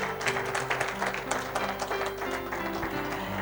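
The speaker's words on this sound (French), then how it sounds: "On peut applaudir Madame Marie-France" Audience applause at an African schools and business awards gathering in Abidjan as a trophy presenter is welcomed, a moderate continuous patter of clapping with a faint tonal hum underneath.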